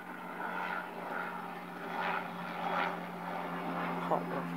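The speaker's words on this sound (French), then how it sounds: "On va attendre que l'avion passe." A propeller airplane drones steadily overhead at a moderate distance, its low engine hum swelling and fading slightly across the few seconds with no other sounds on top.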